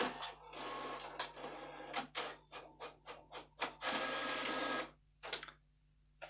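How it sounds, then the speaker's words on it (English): An office printer connected to a workstation prints a listing of users, a dense mechanical chatter broken into rapid rhythmic bursts of line feeds and head passes, fairly close and loud with no talk. "My printer's warming up now, you might hear it in the background"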